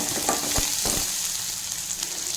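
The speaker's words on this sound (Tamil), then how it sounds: "சேர்த்துட்டு எல்லாத்தையும் ஒன்றா வதக்கிடுவோம்." Onions and curry leaves sautéing in a pan for a home-cooked lunch, a steady close sizzle with a few scraping stir sounds near the start, no talking.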